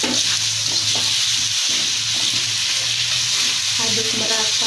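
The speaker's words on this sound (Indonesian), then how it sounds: "sekarang kita masukkan ceker ayamnya dan tulang-tulang yang tadi yang sudah direbus" Chicken feet and boiled bones frying in fragrant spice paste for spicy ceker ayam, a steady loud sizzle with the occasional scrape of stirring, close up and without talk.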